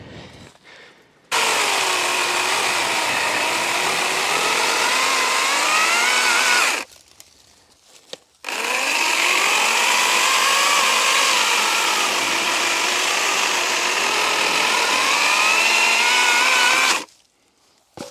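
A battery-powered chainsaw cuts a log of about 8 to 10 inches in the Rocky Mountains. It whines loudly and continuously in two long bursts separated by a short pause, then stops.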